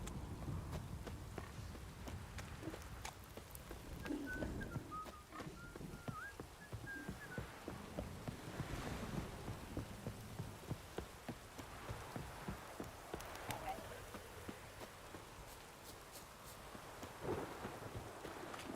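Steady rain and distant rolling thunder in the video game Witcher 3, a dense wash of downpour with low rumbles swelling beneath it for the whole stretch, with a faint whistling tone drifting through early on.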